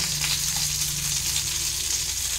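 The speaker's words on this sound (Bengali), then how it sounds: "এইভাবে পাল্টে পাল্টে দিয়ে ভাজতে হবে যেন পুড়ে না যায়, অথচ সুন্দর কুরকুরে ক্রিস্পি ভাজা হবে" Roe-filled parshe fish frying crisp in a pan, a close, steady hiss of hot oil holding evenly without a break.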